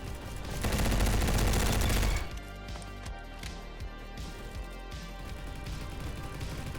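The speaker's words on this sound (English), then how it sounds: "that's a grenade" A grenade blast in the Roblox shooter Bad Business: a loud, dense boom swells for about two seconds, then gives way to a lower rumble with scattered crackling gunfire and no talking.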